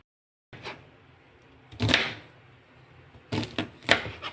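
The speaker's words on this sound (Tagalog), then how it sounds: "naghihiwa ko ng mahahabang kabuti" A knife slicing through long mushrooms on a cutting board, heard as a few separate crisp cuts in short bursts with pauses between them, close and fairly clear, with no talking.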